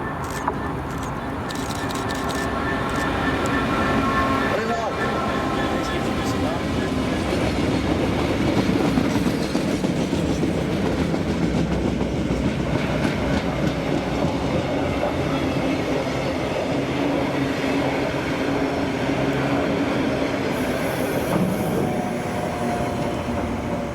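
A long engineers' freight train hauled by class 66 locomotive 66128 rumbles past steadily near Millerhill, wheels clattering over the rails with a constant heavy roar and occasional faint squeals.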